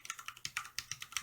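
Rapid typing on a CM Storm Quickfire XT mechanical keyboard with Cherry MX Brown switches, about a dozen crisp, evenly spaced key clicks heard up close.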